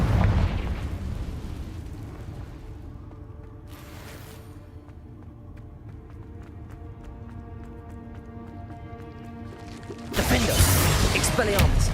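A Confringo blasting spell detonates in Hogwarts Legacy, a loud explosive burst opening the sequence, a crackling rumble fading through the middle, then another heavy blast near the end.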